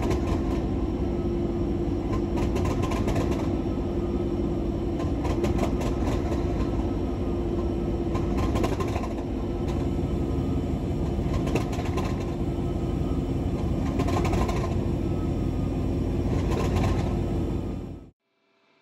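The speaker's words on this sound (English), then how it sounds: "The M62 is a Soviet-built diesel locomotive for heavy freight trains" A Soviet-built M62 diesel locomotive for heavy freight runs steadily, a loud continuous throbbing engine drone with rhythmic clatter, close and alone until it cuts off abruptly near the end.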